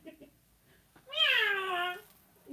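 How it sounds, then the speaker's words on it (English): A cat gives one clear, drawn-out meow lasting under a second, rising then falling in pitch, fairly close and moderately loud against a quiet background. "Oh, that cat gets on my nerves."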